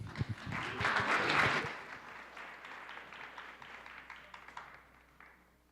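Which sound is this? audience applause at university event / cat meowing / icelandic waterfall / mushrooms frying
audience applause at university event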